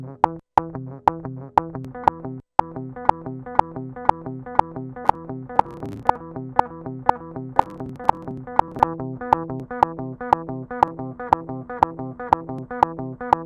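Repeated takes of a clean, undistorted electric guitar metalcore riff play steadily in tight rhythm, with sharp picked attacks and a click track ticking along.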